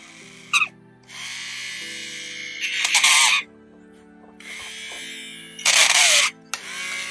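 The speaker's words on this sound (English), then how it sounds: "Sometimes you can drill out bits that are not very useful." A drill cuts plastic out of a Razer Viper mouse in loud, close bursts of steady whining motor, starting and stopping several times with high grinding surges and no talk.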